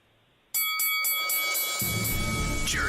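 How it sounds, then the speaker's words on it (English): A bright bell rings out loudly after a brief quiet, struck a few times in quick succession, then sustains with a long shimmering ring. "let's ring the bell"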